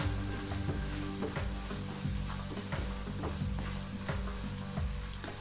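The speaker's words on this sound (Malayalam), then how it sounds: "ഇനി നല്ലതുപോലെ ഒന്ന് മിക്സ് ചെയ്തെടുക്കാം." Chilli and fenugreek powder being stirred into hot oil for Kerala papaya pickle, a steady sizzle and frying hiss with intermittent soft scraping and clinking of a spoon against the pan, close up and without speech.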